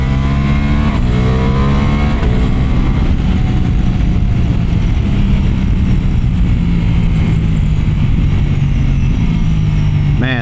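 A Harley motorcycle exhaust rumbles loud and close for about ten seconds, its deep steady idle rising in a few revs and falling back, with no voices heard over it.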